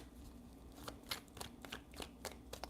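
Tarot cards being shuffled, a run of crisp riffling bursts in an irregular rhythm, close and fairly quiet, with no voice over them.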